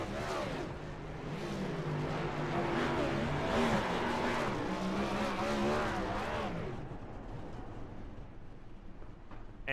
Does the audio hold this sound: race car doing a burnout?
yes